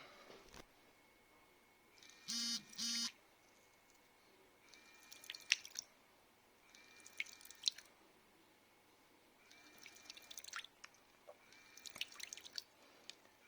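Water squirts and drips from a small IoT project device in short separate bursts, wet squishy spurts and drips spaced a couple of seconds apart, quiet and close with no talking.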